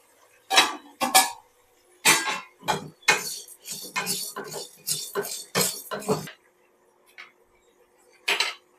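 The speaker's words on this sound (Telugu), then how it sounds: "ఇట్లా అన్ని తిప్పుతూ కాల్చు వేయించుకుంటూ ఉంటే బా అన్ని అన్ని వైపులా ఉడుకుతుంది" Ingredients being turned and roasted in a pan for an old-style shivangi pulusu, a run of sharp clinking scrapes of a utensil against metal in quick irregular bursts, then a pause and a few more strikes.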